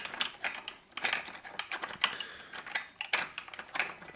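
A ratchet clicks in quick bursts while the top piece of a homemade HHO brazing torch is unbolted, with close, crisp rapid clicking in several separate runs and short pauses between them, no voices.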